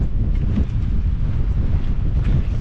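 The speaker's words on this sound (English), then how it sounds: "Gonna get windy on here" Strong wind gusting and buffeting across the microphone on Snowdon, a constant low roar with no voices.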